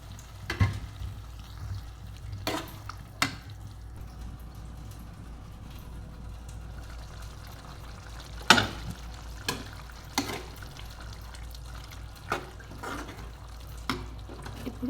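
Water added to a pan of tomato and fish curry cooking on the stove, giving a soft ongoing sizzle broken by several sharp splashes and spits spaced through the clip.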